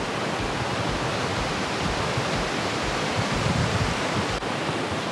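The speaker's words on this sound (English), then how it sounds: "So I guess that thing down here is now a river." A river in Stratford, New Zealand rushes below a swing bridge, a steady loud broadband roar of flowing water with no voices.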